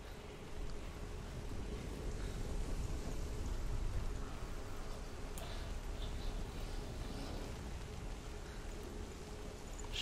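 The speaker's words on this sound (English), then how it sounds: "it's raining now" Rain falls steadily in the video game Hellblade: Senua's Sacrifice as a soft, even hiss that lasts throughout, faint and continuous, without speech.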